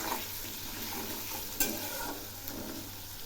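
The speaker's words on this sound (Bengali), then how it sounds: "এই আলু আর পেঁয়াজগুলো খুব সুন্দর করে ভেজে নেব।" Boiled potatoes and onions with salt and turmeric frying in a pan, a steady soft sizzle with spatula stirring scrapes and one sharp clack midway, no talking.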